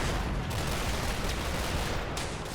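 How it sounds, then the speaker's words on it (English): Sustained gunfire pours in toward the player during a shooter match, a dense, unbroken wash of shots that stays loud and constant throughout with no talking. "You're getting shot at."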